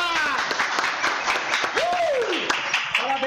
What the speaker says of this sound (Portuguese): Uma salva de palmas pro primeiro round aí